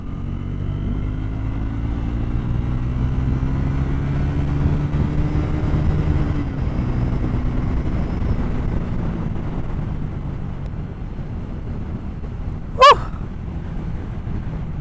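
A Royal Enfield Scrambler 400 XC motorcycle rides along a road, its engine hum rising and falling steadily under heavy wind rush, with a brief sharp click near the end.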